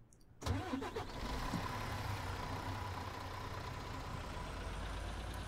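A car engine in the Ranch Simulator game starts with a sharp burst, then settles into a steady, even running drone that holds unchanged for several seconds, moderately quiet and alone without voices.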